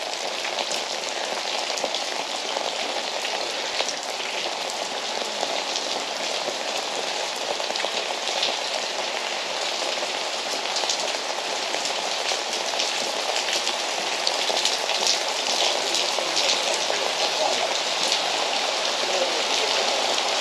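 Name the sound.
rain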